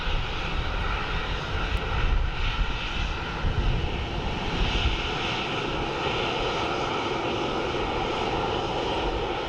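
A Rescue 21 aircraft passes by at Dublin Airport, its engine roar loud and steady throughout, swelling slightly as it goes by with no talk over it.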